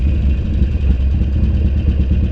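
A motorcycle idles after a throttle position sensor replacement: a steady, close, low rumbling throb with an even, unbroken rhythm and no talk.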